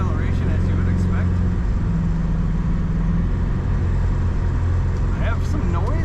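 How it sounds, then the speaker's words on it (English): A 1950 Ford Tudor Sedan's flathead V8 engine runs smoothly with a steady low rumble throughout, heard from inside the car with faint voice-like radio sounds in the background. "Very smooth running flathead V8 in this car."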